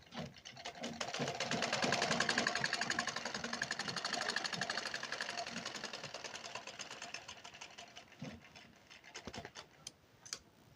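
A sewing machine stitches a plain blouse in a fast rapid-fire run that builds and holds for several seconds, then slows into a few separate clacks and stops, close up with no talking.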